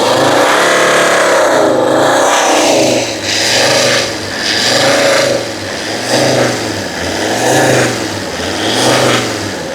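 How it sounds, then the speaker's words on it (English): A Volvo XC90 diesel engine with a DPF fault is revved hard, close and loud, surging in repeated rhythmic waves as the throttle is pushed and released, with no talking. "Give it a full rev down and let go."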